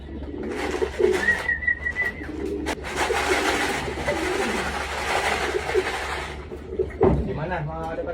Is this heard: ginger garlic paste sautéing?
no